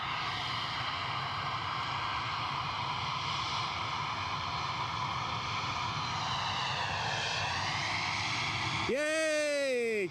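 A KLM airliner roars steadily at Edinburgh Airport during takeoff or landing, a loud continuous jet engine rush with a rising whine, then a brief sharp tonal sweep near the end.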